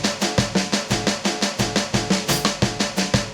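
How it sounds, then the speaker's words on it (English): A steady programmed drum pattern built in GarageBand's beat sequencer plays in a tight, even rhythm, each kick and snare hit landing with identical loudness. "I'm in the beat sequencer in GarageBand and I've put this beat together,"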